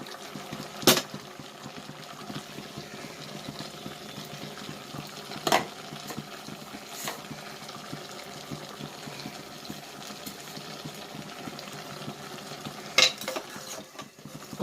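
Mutton with curry leaves stirred in a pan, a soft continuous frying sizzle broken by a few sharp metallic clinks of the spoon against the pan, close and fairly quiet.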